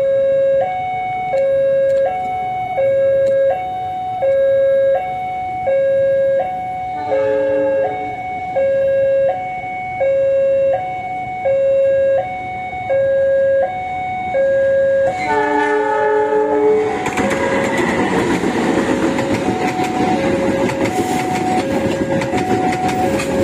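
The Wijaya Kusuma passenger train arrives at Mojokerto station: a repeating two-tone warning signal pulses for a long stretch, then a loud, broad rumble of the approaching train swells and fills the end.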